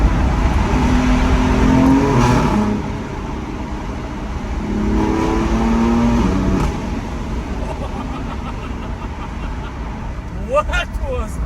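Loud pre-OPF car, nearly ten years old, accelerating hard through a tunnel, its engine roaring with a rising tone and a brief shift dip, echoing and close, while people talk over it.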